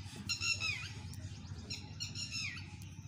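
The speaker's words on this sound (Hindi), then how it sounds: "चिड़ियों का शोर इतना ज़्यादा है और ये बेचारी चिड़िया तो बहुत ज़्यादा परेशान है" Nearby birds chirping and squawking in short, bright bursts, two clear squawking calls a couple of seconds apart over a low background hum, fairly close and moderately loud, with no one talking.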